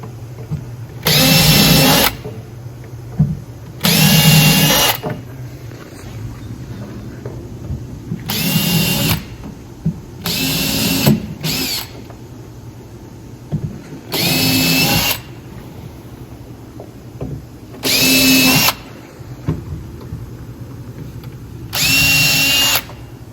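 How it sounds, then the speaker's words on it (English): A power drill bores pilot holes for hinges in wood, in about eight short, loud whirring bursts separated by pauses and quiet shuffling. "I'm going to drill pilot holes in all of these hinges"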